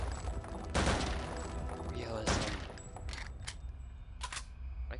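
Gunfire in the video game Return to Castle Wolfenstein, several loud separate shots aimed at bricks in catacombs with a ringing tone between them, and someone talking quietly underneath.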